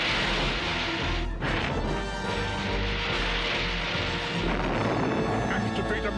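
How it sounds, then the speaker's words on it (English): A cartoon heat-seeking missile strikes a G.I. Joe Skyhawk aircraft in a loud, continuous crash and explosion with a sharp burst near the start, layered under dense action sound for the whole stretch. "Heat-seeking missile approaching. Crash time."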